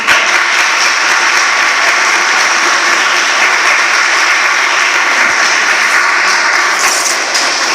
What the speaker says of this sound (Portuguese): Aplaudem ao Senhor.